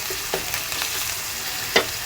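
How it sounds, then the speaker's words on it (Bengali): Onions fry in a pan for a fish bhuna, a dense steady sizzle close up. A spatula scrapes and stirs them a few times, with one sharper scrape near the end, and no voices. "পেঁয়াজটাকে একটু মানে নিচে যেন লেগে লেগে যায় এরকমভাবে আমি ভেজে দিলাম"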